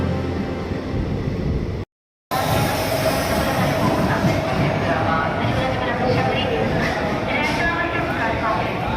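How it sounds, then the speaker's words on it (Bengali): Trains rumble past at a station in a continuous roar with rhythmic clattering, broken by a brief silent gap, and voices speak under the noise. "বিভিন্ন জায়গা থেকে দেখছি শুধু ট্রেন যাওয়া আর আসা"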